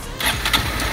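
Honda CG 160 motorcycle engine cranking and catching, a short burst of starter whir and sputtering ignition that settles into a running note within a second.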